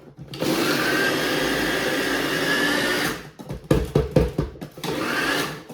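A food processor chops cranberry salad ingredients with a steady, loud motor whir for about three seconds, then switches to a series of short, choppy pulses.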